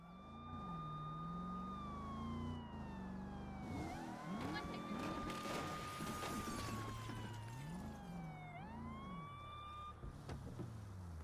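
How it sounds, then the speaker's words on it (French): A police siren in the video game Saints Row wails up and down continuously over engine and street noise, loud and close throughout. "Tu l'entends pas la sirène toi?"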